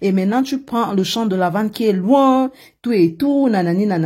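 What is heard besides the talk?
No everyday noises stand out.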